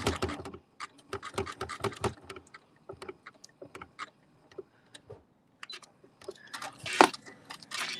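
Rapid mechanical clattering of a sewing machine stitching, in bursts with short pauses, ending with a louder heavy thunk as the needle strikes a thick button.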